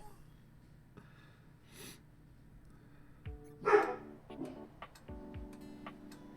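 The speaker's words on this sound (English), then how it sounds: "who you barking at, bud?" A dog barks at something outside near the property: several sparse, faint barks spaced over a few seconds, heard at a distance against a quiet background of small ticks, with no talk.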